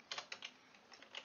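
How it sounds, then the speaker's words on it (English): Quick, light keystrokes on a computer keyboard come in an uneven burst of soft clicks, quiet and close, with no talking. "I'm going to type out right here"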